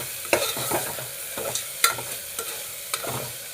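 A spoon stirs paneer and soaked rice in a pot for a simple paneer pulao, giving several distinct scraping strokes over a soft sizzle, close and fairly quiet, with no voices.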